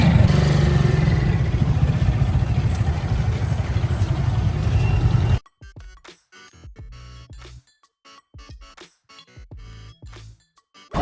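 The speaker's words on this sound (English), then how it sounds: "In the tiniest tuk-tuk I've ever seen." A tiny tuk-tuk rattles through traffic, its engine drone and road rumble loud and constant for about five seconds, then cut off into choppy, broken snatches of engine noise and clatter.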